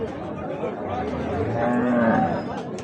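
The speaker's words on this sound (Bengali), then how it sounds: "আর পাশে আরেকটা দেখছি গাই বাছুর" A cow lows with a long, drawn-out moo at a busy rural cattle market where cows and calves are bought and sold, the call rising above a dense hum of crowd chatter and nearby livestock.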